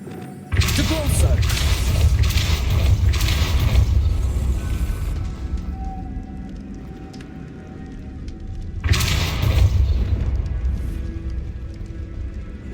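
Spell effects from the Hogwarts Legacy game, including the Depulso force-push, land as two heavy booming thumps with rumbling low-end bursts separated by a quieter stretch, while a voice calls out the spell names.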